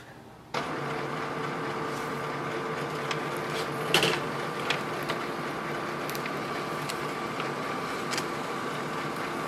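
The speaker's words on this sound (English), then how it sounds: "I'll just scan this page, place it here under the scanner." An HP DeskJet 3772 printer scans a page with a steady mechanical whir and hum, punctuated by a few clicks and clunks from the scanning carriage, close and continuous.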